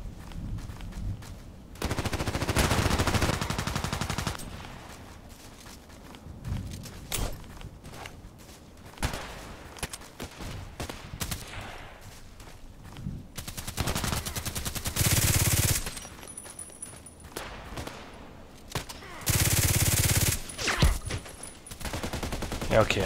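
Sniper rifle fire in an online shooter game, with loud sharp bursts of shots and rapid volleys around the start, middle and end, separated by quieter stretches of footsteps and softer game noise.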